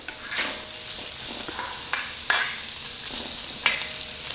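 Vegetables frying in vegetable oil in a hot wok for stir-fry noodles: a steady, bright sizzle broken by several sharp scraping strokes of stirring, close and clear, with no voices.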